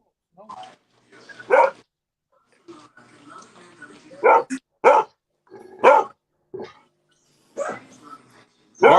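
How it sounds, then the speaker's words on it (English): A dog barks indoors in several sharp, loud bursts spread irregularly among stretches of people talking nearby. "She's barking at him because he's eating donuts."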